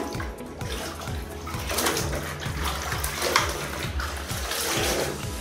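Hand-washed clothes are rinsed in a basin of water, with steady sloshing and splashing running continuously at moderate loudness and no talk.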